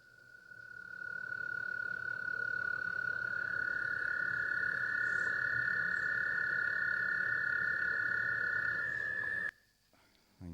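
Frogs croaking in a steady, dense chorus with one sustained high-pitched trill running over a low rumbling bed of calls, loud and continuous before cutting off abruptly near the end.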